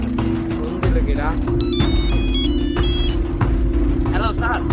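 A phone rings nearby with a bright electronic ringtone lasting a couple of seconds, over a constant rumble of road traffic.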